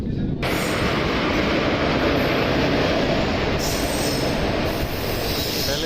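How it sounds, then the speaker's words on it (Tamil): A train arriving at a station rumbles loudly and continuously nearby, with high metallic wheel squeals rising over the heavy rolling noise. "நம்ம ட்ரெயின் வந்துடுச்சு இதில் தான் நம்ம ஏற போகிறோம்"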